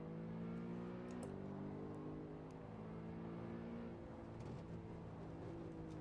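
A BMW M3 in Assetto Corsa on the Nordschleife accelerating hard, its engine holding a steady, loud drone with a quick shift early on, then pulling on continuously.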